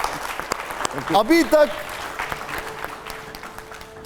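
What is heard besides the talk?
audience applause on a TV show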